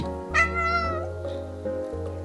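Cats meow repeatedly in the video game Calico: several close, clear meows, one drawn out, over a soft steady game background.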